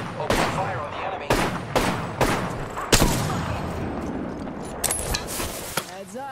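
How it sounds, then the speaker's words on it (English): Gunfire in the Apex Legends video game, with several sharp bursts of shots spaced out over the stretch, a louder single crack near the middle and lighter rattling and game effects between them. "Open fire on the enemy."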